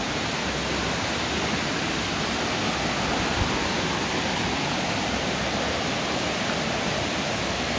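Steady broadband rush of a forest waterfall on a jungle trail in Thailand, heard close and continuous with no pauses and no voices.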